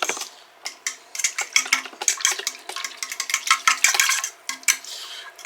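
A utensil stirs yeast into honey and warm milk in a bowl, producing quick, uneven clinks and scrapes in a busy rhythm, close and fairly loud, with no talking.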